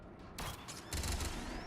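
Bursts of rapid gunfire in Mass Effect 3, a sharp volley starting after a brief pause and a heavier, louder barrage near the end, with whooshing projectile streaks over a constant rumble.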